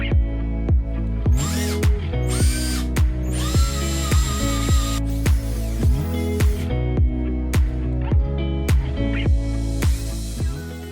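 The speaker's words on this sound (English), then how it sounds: "So when drilling the holes, I decided to leave the cabinets and the drawers attached" Power drill boring holes through bathroom cabinet and drawer fronts, loud and close, a rapid rhythmic series of short whirring bursts repeating steadily, with no talking.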